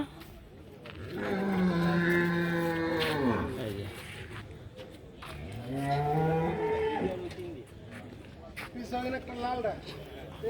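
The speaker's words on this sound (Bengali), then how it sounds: "এই এই গরুটা হচ্ছে তাজু ভাইকে দিয়ে দেবা" Two long, loud cow moos close by at a livestock market, each rising then falling, with a quieter low call near the end and faint background voices.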